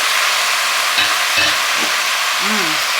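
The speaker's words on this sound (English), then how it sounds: "now we're going to start adding the meat back in" Meat and its juices are stirred back into a loudly sizzling Texas chili pot, with a continuous close frying hiss and a few scraping stir strokes.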